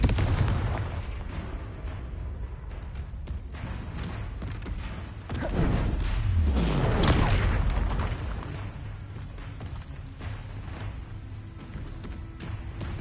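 Confringo spell blasts in Hogwarts Legacy open-world combat: a run of deep booming explosions and cracking bursts, with a larger surge around the middle trailing into rumbling decay.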